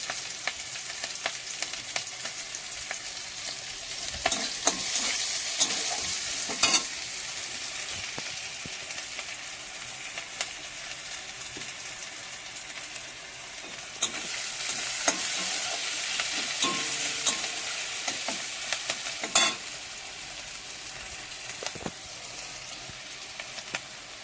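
Onion, green chilli and ginger fry in oil with black cumin seeds, a steady crackling sizzle with intermittent stirring scrapes and clicks, close and moderately loud throughout.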